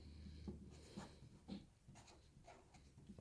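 Pen or marker strokes marking a seam allowance on a paper dress pattern for a panel-front dress, a few short scratchy marks spaced about half a second apart, close and quiet with no talking.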